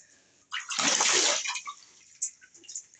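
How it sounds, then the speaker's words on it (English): Water splashed by hand while washing a face at a sink, one loud burst of splashing followed by a few softer splashes and drips, close and alone. "So I think I've washed most of my face."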